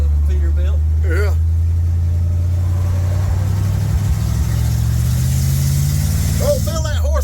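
The used engine in a 1972 Dodge truck, long abandoned, drones with a steady low rumble as the truck is driven, loud and close throughout, while someone talks briefly at the start and end.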